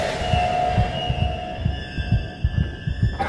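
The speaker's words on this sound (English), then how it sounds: "the heartbeat sound is a little bit disingenuous" Steady thumping heartbeat sound effect from the video game SOMA, a regular low double-pulse repeating about once a second under a sustained droning hum, with no speech.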